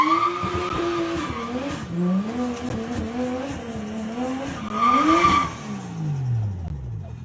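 A car does burnouts at an early-morning underground car meet in Tokyo. Its engine revs hard and wavers while the tires squeal long and loud nearby, with a brief voice over the noise as the revs fade at the end.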